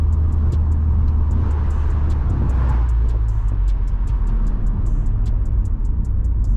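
A 2020 Ford Mustang EcoBoost with a Circuit Concept Garage catback exhaust gives a steady, loud low rumble with a faint high ticking over it, holding even throughout without speech.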